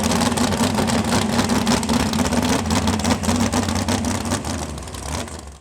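A race car fitted with a Turbo 400 automatic and a tractor rear end runs steadily, its loud, close engine rumbling without a break before easing off slightly at the very end.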